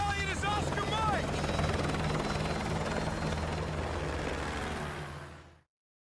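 A military helicopter from the Modern Warfare 2 Campaign Remastered game roars steadily with a loud, close rotor thrum and engine drone, some brief chirping at the start, then cuts off abruptly.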